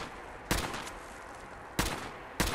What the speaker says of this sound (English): Wow, he's able to dodge all of my bullets.